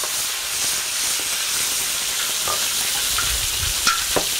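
Lecsó with sweet kápia paprika frying in a pan, a steady close sizzle and hiss with a few soft stirring knocks near the end.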